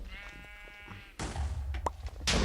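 A sheep bleats in a video game, one wavering call heard alone, followed by sudden loud crashing bursts from an earthquake attack.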